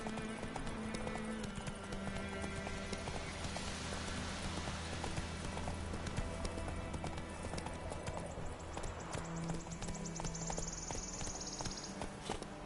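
Geralt's horse Roach in The Witcher 3 trots with steady, rhythmic clip-clop hoofbeats under a low musical score, continuing at an even pace throughout.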